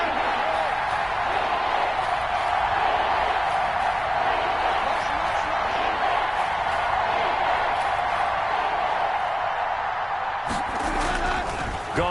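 Stadium crowd in a Madden 21 American football game against the Rams builds ahead of a big third down, a steady, loud roar of cheering that carries on throughout with a commentator talking over it.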